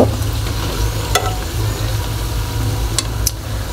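Bhel puri ingredients fry in a medium-sized wok, giving a steady close sizzle with a low rumbling hum underneath and a few sharp clicks.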